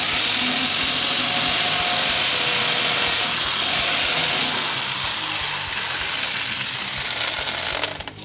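A power drill bores a hole into a wall for an 8 mm wall plug with an 8 mm bit, a loud steady whine running continuously and cutting off at the end, with no talking.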